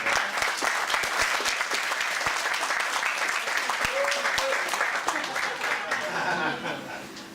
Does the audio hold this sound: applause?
yes